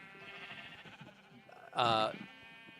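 A single loud sheep bleat from Minecraft rises over quieter background tones and faint talk, a short wavering cry lasting under a second.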